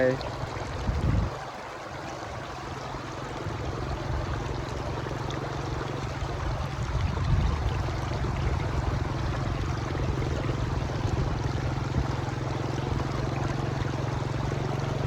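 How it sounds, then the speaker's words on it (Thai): Water flows steadily over rocks, a continuous rushing and trickling sound with a faint voice now and then underneath. "น้ำไหลตัวหินพี่น้อง เสียงถัดถาดเสียงน้ำไหลเนาะ"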